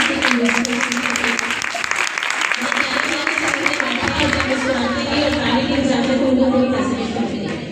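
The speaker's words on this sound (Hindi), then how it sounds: "प्लीज तालियां मुशाहिदा करें।" Sustained applause from a large audience at a live poetry or ghazal recital, dense clapping with crowd murmur filling the whole stretch, loud and close.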